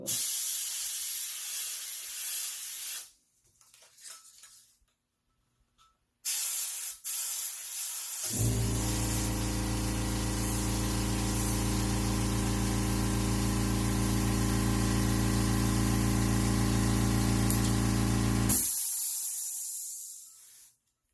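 An airbrush sprays paint onto a tumbler, first in short hissing bursts separated by pauses, then a long continuous loud spray with a low droning compressor hum underneath that stops abruptly near the end.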